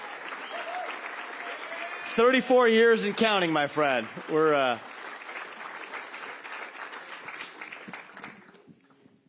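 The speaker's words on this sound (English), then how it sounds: "Another round of applause for my friend Alex Triantafilou." A political rally crowd applauds, a broad clatter of clapping that carries on under a man's loud, amplified speech and fades near the end.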